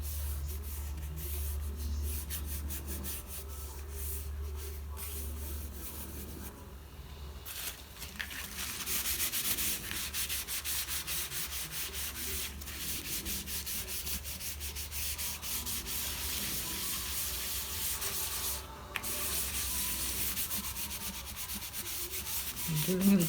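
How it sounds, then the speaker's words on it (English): Steady rubbing and scraping as glued journal pages are pressed down and wiped, a close, continuous papery friction with slight bursts toward the end. "I'm giving it a good press so the glue is coming out the side"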